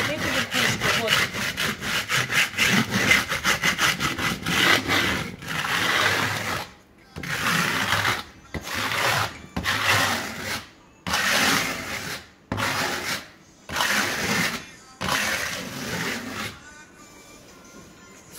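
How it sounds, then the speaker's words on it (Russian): A steel trowel edge scrapes the raised tops off dried decorative plaster on a wall, giving loud, rough rasping strokes, rapid at first and then in separate bursts with short pauses, heard alone. "берем кельму и торцом кельмы срезаем вот эту верхушку"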